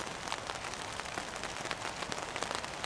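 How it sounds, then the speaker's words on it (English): Rain falls steadily on a Naturehike Cloud Up 2 camping tent, a dense, even patter of drops on the fabric heard from inside, constant and soft throughout with no voices. "the rain has come."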